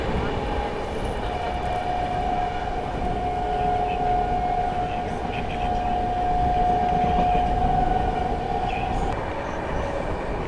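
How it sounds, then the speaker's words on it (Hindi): A train slowing down as it approaches Najibabad junction station, a steady loud rumble of wheels and carriages with a sustained high whine running through, heard from on board for about ten seconds. "यहाँ पे ट्रेन स्लो हो रही है।"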